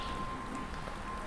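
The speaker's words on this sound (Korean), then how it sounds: "빗소리와 천둥 번개 말고 골목은 고요했다." Steady rain hisses softly and evenly over a dark alley in a horror audio drama, a faint continuous wash with no distinct thunder clap.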